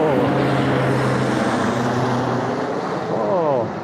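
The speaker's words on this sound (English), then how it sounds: "Airplane?" An airplane flies overhead in Tokyo on a cool, breezy day, a loud broad engine roar that holds steady and then fades near the end, with a brief voice underneath.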